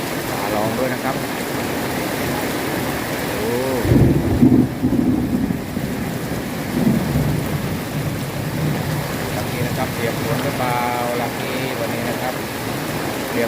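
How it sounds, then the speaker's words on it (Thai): Heavy rain pours steadily in a dense, continuous hiss, with someone talking intermittently over the downpour. "ฝนก็เทลงมาแรงด้วยนะครับ"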